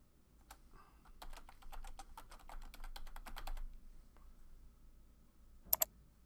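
Computer keyboard typing in an office while renaming a calendar, a quick run of close, crisp key clicks followed by a pause and two sharp mouse clicks.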